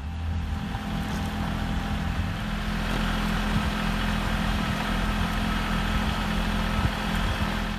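Tractor engine in low-range transmission running steady and slow while carrying a tall glass-filled pallet crate over rutted ground, a continuous low rumbling drone heard close and uninterrupted.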